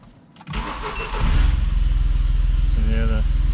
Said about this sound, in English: So there the car starts up and the alternator starts up and then the gauge comes on.